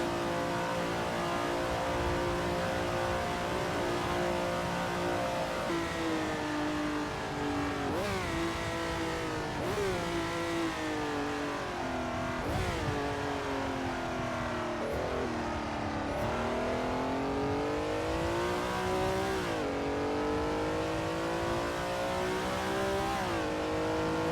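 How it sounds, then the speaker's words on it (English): Race car engine in a PC racing game set at the 1967 Daytona 24 Hours, loud and continuous, revving up and down through gear shifts with occasional brief tire squeal. "I'm gonna be quiet for a little bit and I'll leave you listening to the car"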